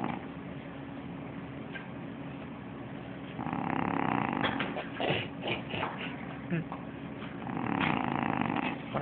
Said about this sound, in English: as soon as I stop recording, he stops snoring